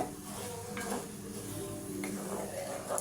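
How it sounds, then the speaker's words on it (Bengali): A milk mixture for kulfi is stirred in a pot, with repeated spoon scrapes and clinks against the metal over a soft, steady bubbling hiss. The rhythm is uneven and close up. "লেড়ে সেটা ভালো করে মিশিয়ে নেব।"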